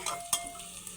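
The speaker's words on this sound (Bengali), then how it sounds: "দিয়ে একটু ভালো করে ভেজে নিচ্ছি দেখতে পাচ্ছেন ভাজা ভাজা হয়ে গেছে" Soft, steady sizzling of black cumin and chillies frying in hot oil, with a brief stir or clink near the start, close and fairly quiet.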